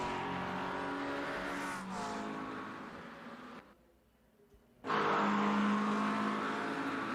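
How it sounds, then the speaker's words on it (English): Race cars run practice laps at the Miami Grand Prix circuit, a loud engine whine revving and shifting, dropping out briefly and then returning sharply as another car roars past. "Need to look around the circuit, some of the other cars in practice here."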